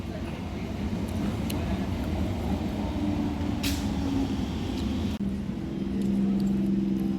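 An up Katwa local train arriving at a station, a steady low rumble of the train rolling in with a brief hiss partway and a rising tonal whine toward the end, loud throughout.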